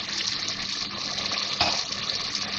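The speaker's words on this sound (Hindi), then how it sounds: "थोड़ा सा पानी डाल दूँ, 2-3 टेबल स्पून" A couple of tablespoons of water poured into curry masala frying in a pan for egg korma, a continuous hissing, gushing wash over about two seconds with a brief louder splash near the middle, close and alone without talk.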